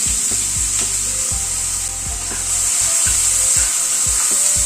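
Two medium chopped onions frying in a pan over a medium gas flame, loud sizzling under repeated scraping strokes of a spatula stirring them, roughly a stroke every half second.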